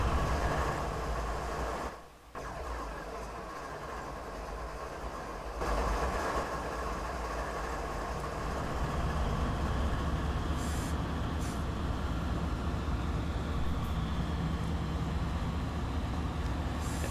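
Train rumble and wheel noise from the Train Sim World video game on a Canadian mountain pass route, a steady loud roll with a brief dip early on and faint high squeals later, no talking.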